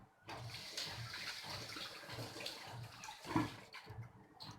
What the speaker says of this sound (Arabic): ونغسلو بالملحه مزيان